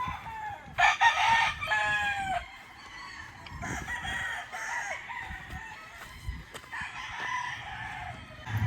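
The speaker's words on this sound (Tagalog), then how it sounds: "nakapili na kami ng mga breeding materials, tryo na white kelso ni Idol B-Boy" White Kelso gamefowl roosters on a gamefarm crow repeatedly, several calls overlapping at moderate distance, with clucking and farmyard noise between.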